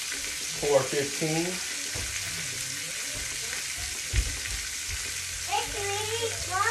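Pork tenderloin sears in a pan of leftover grease with a steady, close sizzle and frying hiss throughout, while a person talks over it for short stretches.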